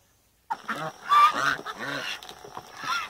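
A group of farm geese honk loudly and repeatedly at close range, overlapping nasal calls starting abruptly after a brief silence and continuing in an agitated chorus.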